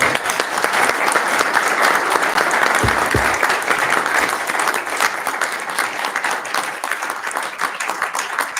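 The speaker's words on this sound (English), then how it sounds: "Let's give it a round of applause" Sustained audience applause fills a Board of Aldermen meeting room, steady dense clapping throughout without a pause.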